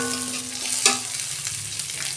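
Sliced onions hit a pan of frying ginger-garlic paste, giving a close, steady sizzle with a single sharp clatter near the start and the hiss continuing evenly afterward.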